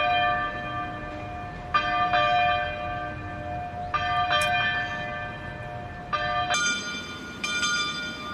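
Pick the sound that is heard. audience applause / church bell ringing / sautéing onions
church bell ringing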